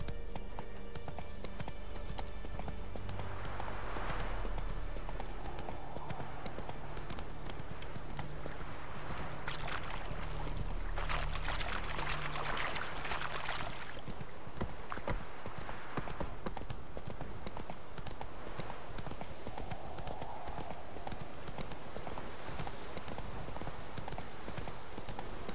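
A horse gallops in The Witcher 3 with a continuous, fast rhythm of hoof clip-clops on the ground, loud and close, with game ambience underneath and no talking.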